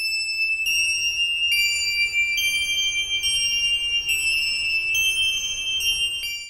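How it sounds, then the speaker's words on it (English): Bright synth bell melody played with a Tyrol preset in an aggressive synthwave track, repeating high chiming notes in a steady rhythm, loud and alone with no voices. "You can use bells like I did, also a Tyrol preset by the way,"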